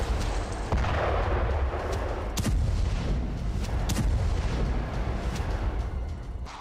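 Artillery fire from military strikes on Hamas and Hezbollah: a dense, continuous rumble of distant booms with several sharper, louder blasts cutting through, heard without any speech.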